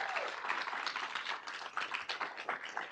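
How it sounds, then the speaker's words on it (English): Applause for the city of Irvine at an IPM achievement awards ceremony, a crowd clapping in a lively, uneven patter with distinct individual claps standing out, moderately loud throughout. "How about a big round of applause for the city of Irvine?"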